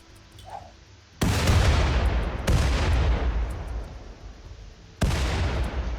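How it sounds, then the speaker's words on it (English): Grenades exploding in the RimWorld video game: three loud booms, each with a sharp onset and a long rumbling decay, spaced a second or more apart after a quiet start. "Are you're throwing grenades at this bit,"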